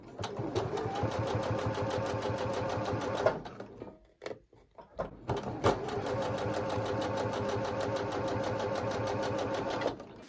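Sewing machine stitching quilt scraps together with a quarter-inch seam, running in steady rapid bursts, close and clear, with a brief pause in the middle before resuming.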